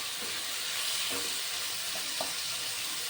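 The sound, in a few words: frying tomato, onion, green chilli, ginger, garlic in pan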